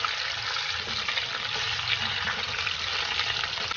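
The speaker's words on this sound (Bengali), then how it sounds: "এবার কড়াই গরম হয়ে গেছে, আমি আলু পেঁপে একে একে ছেড়ে দেব।" Potatoes and papaya sizzle in a hot wok for a Bengali-style mutton curry, a continuous crackling fry at steady moderate loudness with no talk over it.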